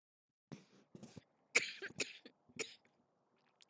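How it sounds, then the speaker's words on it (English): A person coughs several times in close succession, a few harsh bursts followed by a throat clearing, recorded close on a quiet microphone with no talk. "I am so sorry for coughing in your ear."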